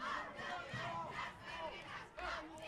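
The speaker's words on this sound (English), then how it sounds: "Loud student section, loud home crowd, loving what they're seeing." Home crowd and student section at a high school football game between Evanston and Green River, roaring and shouting in loud surges that swell and fall, with voices chanting across the stands.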